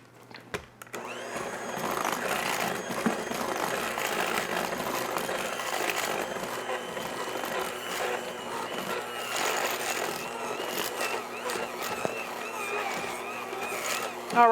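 An electric mixer whirs steadily as it works flour, salt and soda into chocolate chip cookie dough, a continuous motor drone with slight strain and bumps, running close and unbroken for many seconds.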